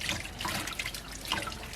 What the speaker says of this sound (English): My first rinse is just with the water